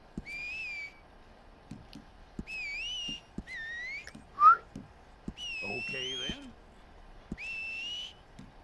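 Melodic whistling from a character in Red Dead Redemption 2, several short rising-and-falling phrases repeated in a steady pattern, with brief talk and light clicks between them.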